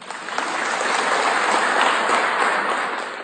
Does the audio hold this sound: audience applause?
yes